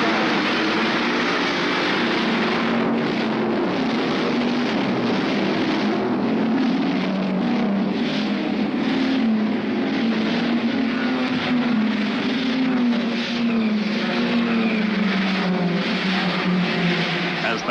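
A field of sixty race cars at the start of the Bathurst 500 roars continuously with a dense, droning engine noise, while a commentator talks over it.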